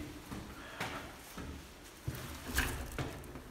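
A locked door at a factory is tried, giving several dull rattling clunks and thumps spaced irregularly, close and moderately loud, with a sharper jolt near the middle.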